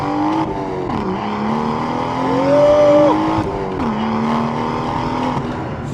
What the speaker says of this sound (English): The BMW M140i, rear-wheel driven and a manual gearbox.